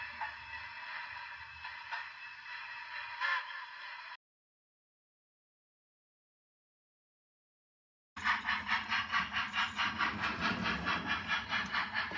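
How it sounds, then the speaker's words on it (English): Model freight train running on a home layout, heard as a steady mechanical hum and rattle, then a gap of silence, followed by louder rhythmic clicking and rumbling close by. "This is a freight train."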